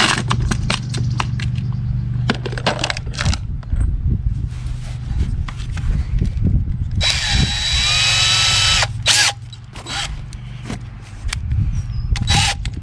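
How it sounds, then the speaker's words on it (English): A DeWalt handheld drill bores into concrete near a septic tank, its loud whine running in bursts with brief pauses and gritty grinding, plus some clattering handling noise, with no talking. "I think I'm just going to drill it into the concrete here and then make myself a handle."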